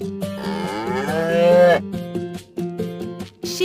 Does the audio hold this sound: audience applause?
no